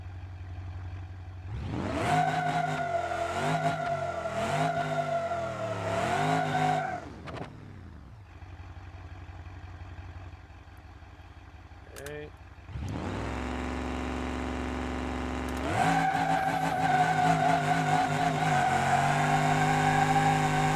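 Moonhawk car from BeamNG.drive running a quarter-mile drag, its engine revving loud and close through rising gear pulls, a drop to near idle partway, then a fresh hard launch into a steady high-revving run; a voice talks over parts of it.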